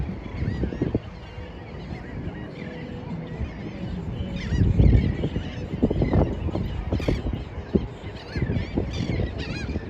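Geese honk over and over outdoors, a loose overlapping flock calling loudly and continuously, with several sharper close honks standing out from the busy chorus.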